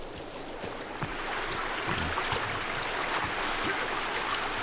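Steady rushing water in the survival video game Sons of the Forest, a continuous broadband wash with no talk over it.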